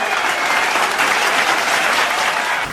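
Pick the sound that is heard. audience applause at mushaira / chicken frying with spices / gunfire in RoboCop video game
audience applause at mushaira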